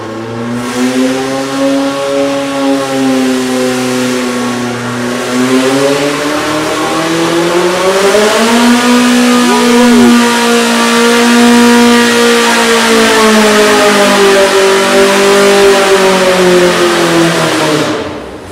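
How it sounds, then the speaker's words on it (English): A car engine on a water brake dynamometer at an EMPI engine competition revs loud and close, holding a sustained high drone whose pitch climbs, dips and climbs again for the full stretch without talk. "you could hear Terry balancing the water brake up against that engine"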